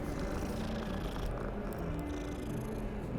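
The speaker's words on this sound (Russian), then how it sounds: "кошка!" A cat purring in Hogwarts Legacy, a soft, continuous low rumble steady throughout over a faint background, close and quiet, with no voices.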